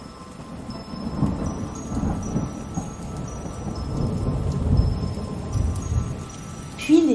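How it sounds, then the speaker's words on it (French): Steady rain with low rolling thunder rumbling through an autumn storm, continuous and fairly loud, with faint high tones over the top and a brief sharper crack near the end. "l'orage grondant."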